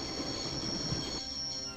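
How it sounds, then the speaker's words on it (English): Train sound from the video game Broken Sword, a steady rumbling rail noise with squealing wheels that drops in intensity partway through, brief and without talk. "I'd always wanted to stop a train, and now was my chance."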